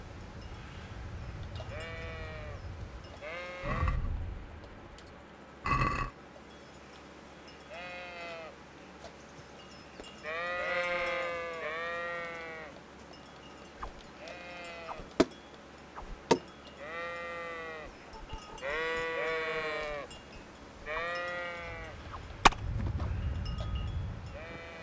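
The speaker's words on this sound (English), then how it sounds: "Run, sheep, run!" Several sheep in the medieval video game Kingdom Come: Deliverance bleat in repeated wavering bursts, some overlapping, between thumps and short clicks, moderately loud and with no talk over them.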